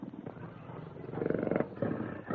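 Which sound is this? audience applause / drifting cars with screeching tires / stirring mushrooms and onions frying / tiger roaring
tiger roaring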